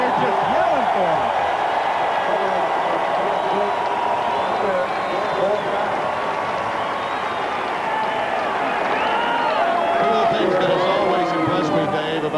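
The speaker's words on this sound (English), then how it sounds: "And listen to the crowd. Yeah, look at, they're just yelling for him." A big South Carolina Gamecocks football stadium crowd roars and yells steadily throughout a game against Auburn, a dense, loud wall of voices with scattered shouts rising above it.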